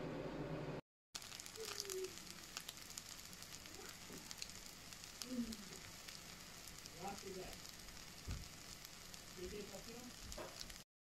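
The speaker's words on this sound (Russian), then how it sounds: "Перемешала и сейчас уже буду жарить." Homemade pancakes made from a semolina and egg batter sizzle and crackle steadily in a hot pan in a village house kitchen, a soft continuous frying hiss with occasional faint clinks.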